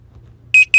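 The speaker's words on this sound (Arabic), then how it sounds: "الرام كلوكس بيب." An alarm clock sound effect gives two short, loud electronic beeps in quick succession over faint background hiss.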